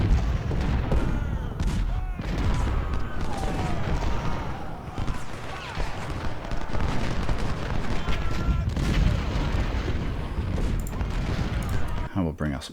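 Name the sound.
cannon and rifle fire in video game Ultimate General: Civil War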